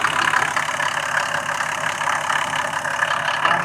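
A 1991 Mercedes-Benz 350 engine idles steadily after starting, a smooth continuous mid-pitched hum recorded close up with no talking.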